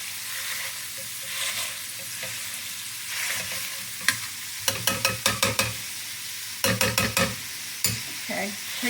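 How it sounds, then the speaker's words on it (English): Frying meat in a skillet broken up with a potato masher, a steady sizzle under bursts of rapid metallic mashing thumps and clatters in quick clusters, close and prominent, no one speaking. "I'm going to use is my potato masher."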